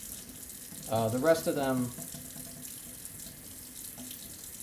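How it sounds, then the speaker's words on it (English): Tap water runs steadily into a sink while a trumpet valve is rinsed beneath it, a constant close hiss with faint handling clatter, briefly overlapped by someone speaking. "this is the only one that I feel like I really do need to do under running water."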